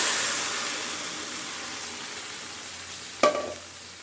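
Tomatoes hitting hot oil seasoned with panch phoron for a Bengali tomato chutney, a steady close frying sizzle that slowly fades, broken by one sharp clatter near the end, with no voices.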